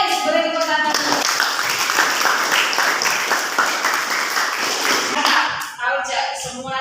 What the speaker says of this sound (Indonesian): Yes, beri tepuk tangan.